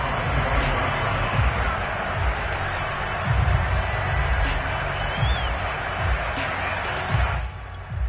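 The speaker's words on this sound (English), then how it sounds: "And the home crowd loves it." A stadium crowd roars and cheers at an American football game after a two-point conversion play, forming a loud, sustained wash of noise under a commentator's voice.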